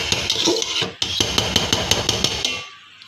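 A utensil stirs khude (broken) rice with pui (Malabar spinach) greens in a pot, sounding as a quick series of close scraping clinks in steady rhythm, then a brief pause and more clinks before it fades.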